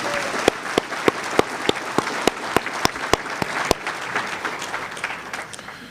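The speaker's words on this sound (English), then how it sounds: "let's give them a round of applause for the work they did." Applause for volunteers at an annual meeting, with a crowd clapping throughout and a few sharp, evenly spaced louder claps standing out near the microphone before fading into general clapping.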